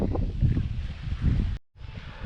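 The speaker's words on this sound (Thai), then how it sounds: "เสียงลมเข้านะครับที่นี่ลมแรงมากเลย" Strong wind gusting across an exposed mountain campsite at Doi Samoe Dao in Na Noi, Nan, roaring steadily into the microphone with a brief cutout near the end.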